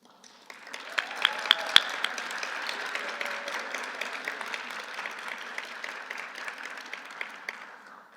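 An audience at a physician assistant commencement ceremony applauds the graduates, with steady sustained clapping that fills the hall for about eight seconds at moderate loudness, no speech over it.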